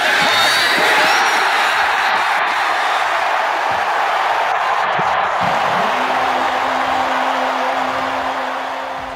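Sports stadium crowd at a football game, a steady wash of roaring voices at a distance, loud and continuous, with a faint whistle-like tone entering near the end as the roar slowly fades.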